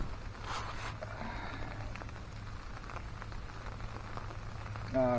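Rain patters steadily on a tarp at a rainy forest campsite, a soft, continuous crackling hiss of drops with a low rumble underneath, fairly quiet and close, with a brief faint tone at the very end.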